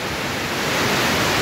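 A waterfall beside a lake roars as a steady, dense rush of falling water, loud and close without any break.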